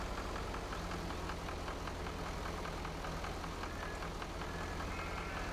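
Engine of an MTZ tractor idling in Farming Simulator 22, a steady, loud low rumble with a faint regular knock running throughout, no talk over it.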